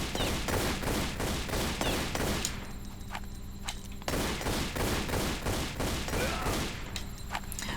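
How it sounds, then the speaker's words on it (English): Rapid gunfire rings out in a Tomb Raider level, dense bursts of shots with brief pauses between them, loud and continuous. "Shoot another ninja."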